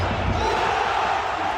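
Stadium crowd roaring at an MMA event, a steady, distant wash of cheering voices with a faint bounce-like thud early on.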